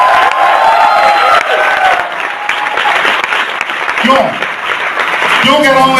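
Applause and cheering from a seated audience at a motivational talk on network marketing, loud and sustained, a dense wash of clapping with a few whoops that fades slightly near the end.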